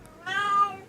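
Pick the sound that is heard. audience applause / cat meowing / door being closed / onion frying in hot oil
cat meowing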